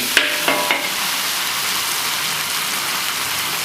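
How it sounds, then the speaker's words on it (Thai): Chilies frying in hot oil for a vegetarian basil stir-fry, giving a loud, steady sizzle close up, with a few sharp spatters and stirring knocks at the start. "เจียวพริกให้หอม"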